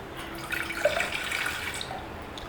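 Water poured into a pot to make an herbal decoction, a steady splashing pour lasting a couple of seconds with light dripping, close and fairly soft with no speech.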